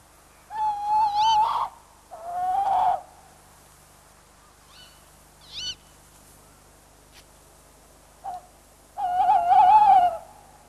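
Tawny owls calling in winter to defend their territories: several long quavering hoots in separate bouts, fairly loud and clear against a quiet night background, with a few short fainter calls between them.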